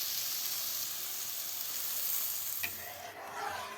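Hot water poured into a pan of cauliflower-potato masala, a steady loud sizzle and hiss of frying spices that flares with a sharp burst of steam as the water hits.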